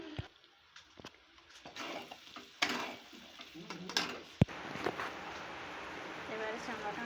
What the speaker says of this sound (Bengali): এটা ভালো করে ভাজা ভাজা করে নিচ্ছি।